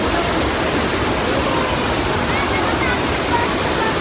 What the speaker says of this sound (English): This waterfall is so awesome, as you can see.